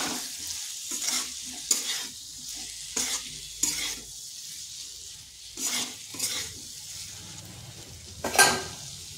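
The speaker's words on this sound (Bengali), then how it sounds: "এই আলু আর কচুগুলো। ভালোভাবে মশলার সাথে কষিয়ে নিতে হবে।" Potatoes and taro are stir-fried with spices over medium heat in a pan, with a soft sizzle and intermittent spoon strokes scraping the pan, close and moderate in volume.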